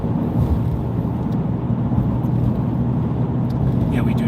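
A car cruises slowly down a road with a steady, continuous engine and road rumble. A voice speaks faintly underneath throughout.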